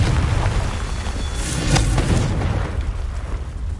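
A Confringo fire spell explodes in Hogwarts Legacy, a loud, sustained booming burst with dense rumble that swells near the middle and slowly fades, with no talking over it.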